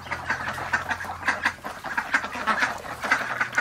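A group of ducks quacks nearby, with repeated loud, overlapping calls in quick irregular bursts throughout.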